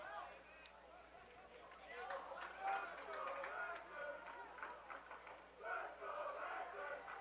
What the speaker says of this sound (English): We've got Francis Parker's crowd trying to match the energy of Coronado. They're starting up a couple chants here